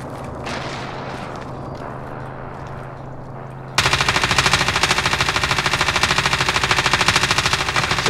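Sustained automatic machine gun fire in the Call of Duty video game, a loud rapid stream of shots that bursts in abruptly after a quieter stretch of background game noise and keeps going unbroken to the end.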